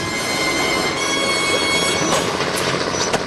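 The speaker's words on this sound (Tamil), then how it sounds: "சீக்கிரம் ட்ரெயின் அந்த பக்கம் கொண்டு போ." Train rolling on rails, a loud close rumble with screeching wheel squeals and a few metallic clanks, no talk heard.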